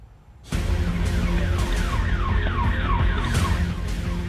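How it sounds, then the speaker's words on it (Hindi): An ambulance carrying a patient to a district office in Buldhana, Maharashtra, sounds its siren: loud, close, repeating wailing sweeps that start abruptly and keep cycling without a break. "सायरन बजाते हुए एम्बुलेंस मरीज को लेकर पहुंची है"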